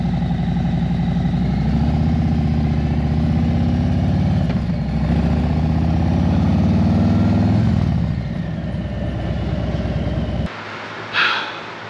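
Harley-Davidson Touring motorcycle out on a ride, its engine droning loud and steady with rising and falling revs for about ten seconds before cutting off abruptly, leaving a brief thump and quiet.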